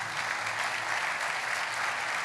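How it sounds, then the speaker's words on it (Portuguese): A congregation applauds in church, a dense, even wash of clapping from many people sustained without break. "Você pode aplaudir Jesus por isso"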